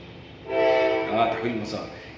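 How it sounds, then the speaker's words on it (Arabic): A train horn sounds from a railway near a station, one drawn-out honk rising over a quiet room and then fading, heard fairly close. "سواق القطر مستقصدني كل يوم في نفس الميعاد، لازم يجي يزمر ما بيفصلش"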